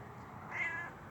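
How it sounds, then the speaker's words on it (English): A house cat meows once, a drawn-out, moderately quiet cry from a little distance behind the camera, over a low steady room hum. "she's meowing behind me"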